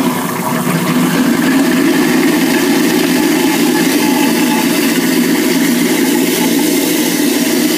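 A kitchen garbage disposal grinds citrus and vinegar ice cubes, a steady loud mechanical whir with low rumble that holds constant for several seconds, close up, with no talk.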